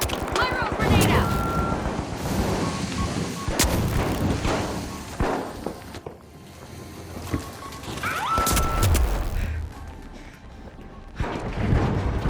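A pyro grenade bursts into fire during a fast arena match of THE FINALS. Booming blasts and crackling fiery rumble come in heavy bursts over constant gunfire, with a voice calling out between them.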